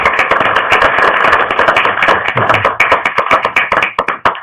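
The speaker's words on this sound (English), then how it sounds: "Let's give everyone a round of applause for doing a great job" Applause for Caldwell police representatives at a city council workshop, a dense burst of close hand claps that thins into scattered, sharper individual claps toward the end.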